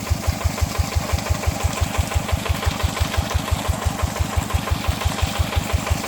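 A tractor engine modified into a water pump for irrigating rice fields runs steadily and close, its fast, evenly spaced thumping pulses repeating without a break and no voices present.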